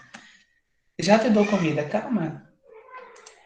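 A pet cat lets out a loud, drawn-out meow at close range, while a person speaks briefly in Portuguese just before and after it.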